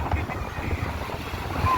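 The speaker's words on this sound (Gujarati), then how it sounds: "આમાં પવન બહુ છે, મોજા એવા આવે છે" Wind and sea waves on the beach at Mandvi, Kutch, a steady broadband rush with low rumbling surf, buffeting the microphone.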